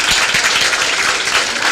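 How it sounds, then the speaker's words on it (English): A brief burst of dense applause from a high school sports banquet crowd, steady and fairly loud with no talking. "we all need to give Miss Williams and Miss Pollard and her staff a round of applause"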